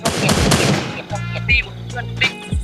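Bursts of gunfire ring out in a shooting video game, rapid automatic rounds followed by a few sharp single shots, loud and close.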